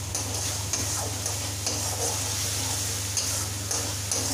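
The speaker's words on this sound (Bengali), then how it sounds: "এর জন্য আমি খুন্তি দিয়ে নাড়িয়ে নিই।" Spices with cumin powder being stirred with a spatula in a hot pan: a soft continuous sizzle under a low steady hum, with brief scraping strokes at irregular intervals, close but quiet.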